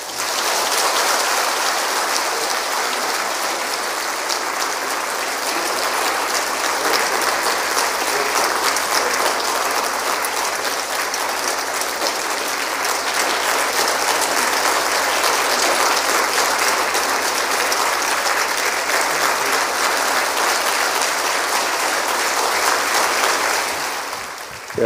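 A church congregation at a Sunday service applauds warmly, a dense, sustained roar of clapping that fills the room at a constant loud level and stops abruptly at the end.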